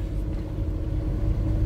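A Kia car towing a caravan pulls slowly out of a yard, its engine a steady low rumble close to the microphone with no talk over it.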